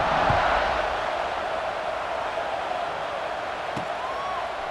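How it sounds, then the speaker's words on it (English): Stadium crowd in EA Sports College Football 26, a Week 12 game against Arkansas, roaring steadily at kickoff as a broad, continuous wash of distant cheering that holds at an even level throughout. "this crowd now ready to get behind them."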